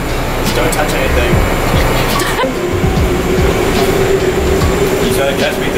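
A New York subway train runs with a steady loud rumble and rattling wheels throughout, with a brief screech or squeal midway, while people talk over it.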